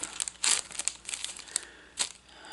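Crinkly adhesive fabric trim is handled in short, close crackling bursts, with a few louder crumples between quieter rustles.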